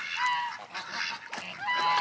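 Ducks flying over a homestead pond give a few nasal, honking quacks in quick succession, fairly close and clear, with short pauses between the calls.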